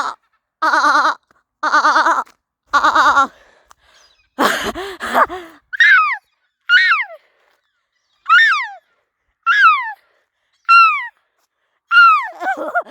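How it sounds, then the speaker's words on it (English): Seagulls in Exmouth calling nearby. A few harsh rasping cries give way to a long run of sharp, loud, downward-slurred squawks repeating roughly once a second, with no talking. "I've just attracted the whole flock. I just attracted the whole flock of seagulls."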